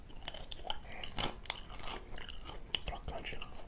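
Crunchy homemade french fries, served with bacon and sausage, chewed close up in a quiet mukbang setting, with soft repeated crunching bites and chewing throughout.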